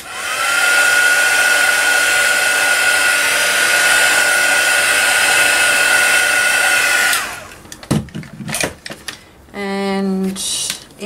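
A dryer blows hot air to dry ink on a piece of artwork. Its loud, steady whirring roar runs for about seven seconds, then cuts off, followed by scattered handling clatter and a brief second burst of noise.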